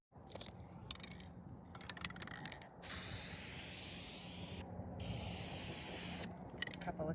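Coating is sprayed onto an RV roof during a roof repair. Mechanical clicks and rattles come first, then a steady, close hiss runs for about four seconds with a brief break in the middle.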